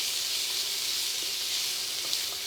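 Vegetables including sweet red peppers sizzle steadily in olive oil over medium heat for turkey chili, a constant bright frying hiss with no talk.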